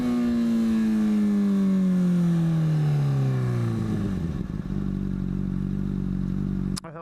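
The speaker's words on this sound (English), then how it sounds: "I did a damn clean rev match into first." A motorcycle engine revs up sharply in a rev-matched downshift into first gear, its pitch sliding down as the revs fall back, then settling into a steady close idle with a short clatter at the end.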